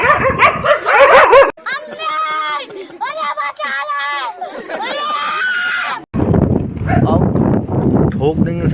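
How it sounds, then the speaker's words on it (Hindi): Several dogs barking and yelping on a busy Lucknow street, loud and close, with a run of sharp, pitched yips and whines in the middle and street noise before and after. "ये कुत्ते बहुत सारे बहुत"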